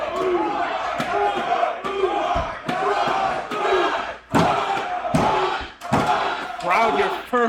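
Loud, roaring crowd at a live independent wrestling show, fans cheering and yelling in surging waves, punctuated by thuds and slams from the ring, with a commentator's voice over it.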